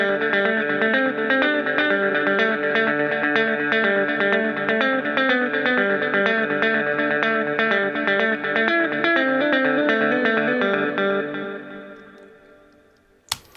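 Palm-muted electric guitar runs through hardware delay and reverb, a steady rhythmic chug of bright repeated notes that opens up, then fades into trailing echoes before a brief click at the end.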